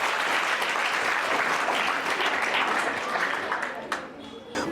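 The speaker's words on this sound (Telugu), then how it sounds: "గట్టిగా చప్పట్లు" An audience at a Hindu student gathering claps vigorously for several seconds, a thick, continuous burst of many hands that thins and fades toward the end, with a few isolated claps trailing off.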